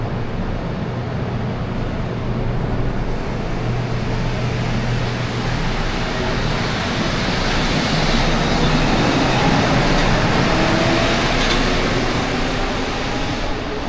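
Continuous loud rumble and roar of a rubber-tyred metro train in Mexico City, broad rushing noise with steady rolling tones that swells slightly louder toward the middle.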